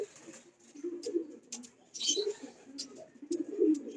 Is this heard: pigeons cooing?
yes